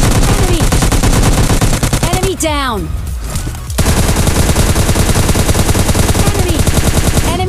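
Sustained rapid automatic gunfire from the video game PUBG Lite rattles almost nonstop, loud and close, with a short break in the middle before the bursts resume, while a voice talks over it.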